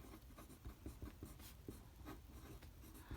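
A pen writes out a math formula on paper, giving soft, close scratching strokes and taps in a quiet room.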